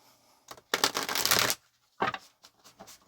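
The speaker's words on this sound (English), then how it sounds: "Let's get one more shuffle." A deck of cards is riffled in a long burst, a pause, then a second shorter crisp shuffle, close up.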